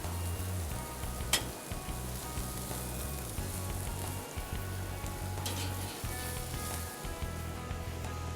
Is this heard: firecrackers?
no